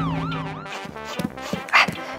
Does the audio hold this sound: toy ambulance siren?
yes